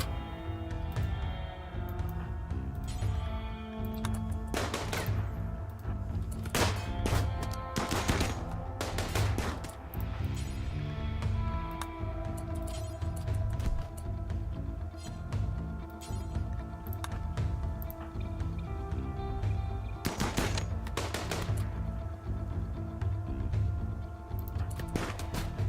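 Gunfire from the video game Rimworld, with repeated sharp shot bursts and rapid volleys scattered over a steady low game soundtrack, fairly quiet overall.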